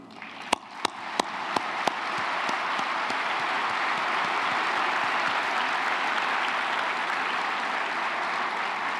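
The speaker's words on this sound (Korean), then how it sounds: "온 국민과 함께 여러분들의 노고에 존경과 감사의 마음을 담아 뜨거운 박수를 보냅니다" An audience at a trade event applauds workers during a presidential speech in Korea, starting with a few separate claps that quickly swell into steady, full applause.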